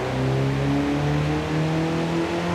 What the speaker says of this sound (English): I do like the Darth Vader turbo sounds.